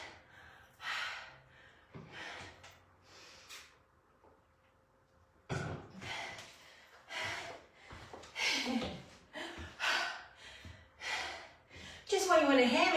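Heavy breathing after a HIIT workout round: a series of loud, close gasps, puffs and breaths in uneven bursts, separated by short pauses.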